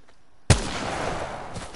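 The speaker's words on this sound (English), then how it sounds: "Firing on that cargo bot." Apex Legends gunshot: one sharp, loud blast rings out and leaves a long rumbling tail, with faint sounds before it and no talking.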